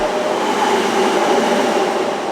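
A train near Osaka, in Japan, heard as a steady, close rumble of rolling carriages in a station, continuous and fairly loud, with no voices.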